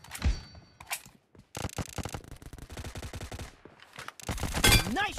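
Gunfire in the mobile battle royale shooter BGMI (PUBG Mobile), loud rapid bursts of automatic shots in quick clusters separated by short pauses, close and sharp.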